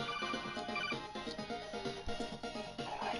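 A phone ringtone rings in a steady repeating melodic pattern, moderately close and clear, with no talk over it.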